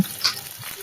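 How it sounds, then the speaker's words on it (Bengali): Potatoes for a stingray fish curry fry in a hot wok with a steady close sizzle and a brief clatter of stirring, with no talking. "দেখো মাছের আলুটা আমি এখানে ভেজে নেব"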